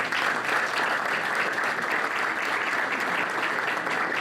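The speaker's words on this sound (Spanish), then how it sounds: "Un aplauso, por favor." Steady applause from an audience at an academic lecture, a dense continuous wash of many hands clapping at even loudness throughout, with no talk over it.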